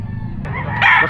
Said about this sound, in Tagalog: Ito mga tol, oh, manok ni Boss Rod